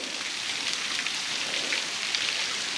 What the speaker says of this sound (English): But this is the waterfall. It's not raging.